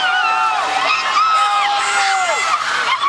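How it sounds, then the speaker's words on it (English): Excited crowd cheering and whooping at a 2010 Rainbow Wahine beach volleyball match between Hawai'i and New Mexico State, a dense, steady roar of many voices with high shouts rising above it throughout. "Crowd excited behind us, Holly."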